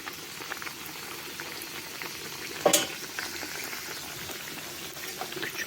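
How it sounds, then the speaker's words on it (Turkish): Çiğ börek fries in hot oil, giving a loud, steady bubbling sizzle up close, with a brief sharper crackle partway through as the oil is stirred and spooned over. "Kızgın yağ sürekli karıştırırsanız ve üzerine dökerseniz daha çıtır olur."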